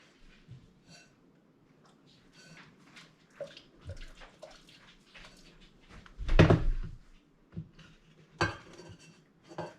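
Water runs into a kettle, filled to around one cup while making Jello popsicles, amid scattered clinks and knocks of kitchenware, with no voices.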